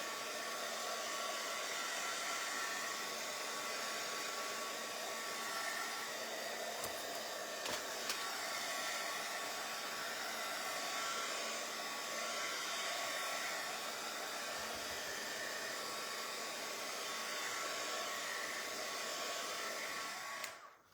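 A hair dryer blows on a resin dragonfly suncatcher with crushed glass, a steady whining hum running unbroken for about twenty seconds before switching off, with no talking.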